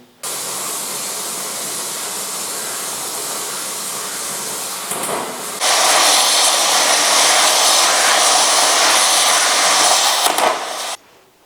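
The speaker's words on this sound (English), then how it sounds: "I'm just about to cut through this keel. I've got about an inch to go." An LPG gas torch cuts through the steel keel of a liveaboard trawler, giving a loud, steady roaring hiss that jumps to a harsher, brighter blast midway before cutting off abruptly.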